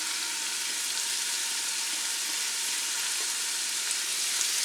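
Diced leeks and carrots sizzle steadily in olive oil in a soup pot, a continuous, bright frying hiss that stays even and close throughout with no voices.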